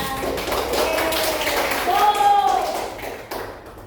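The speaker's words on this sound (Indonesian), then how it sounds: "Kita beri tepuk tangan kepada kelompok yang sudah selesai duluan." Students in a classroom clap for a group that finished its task first. Mixed voices and a rising whoop sound over the clapping, which fades out near the end.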